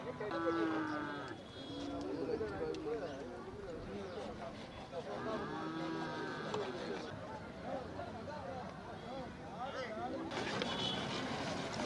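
Cattle moo at a busy livestock market in Chettithangal, with several drawn-out calls rising over a constant crowd murmur while people talk and bargain nearby.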